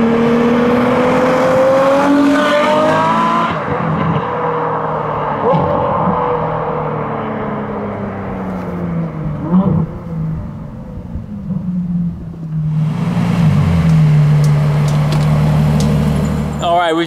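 Ferrari F12 fitted with an Innotech IPE exhaust revving at night, loud deep bursts of engine roar that rise and fall, with a quieter rumbling stretch between two strong revs, and people talking nearby.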